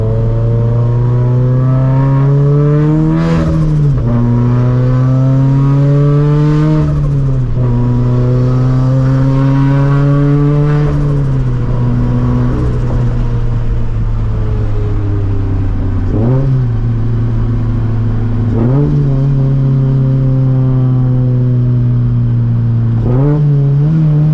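A loud turbocharged Scion FR-S engine, about 400 hp, drones close by with loud exhaust, its pitch rising in repeated surges as it accelerates through gears, with brief dips between each pull.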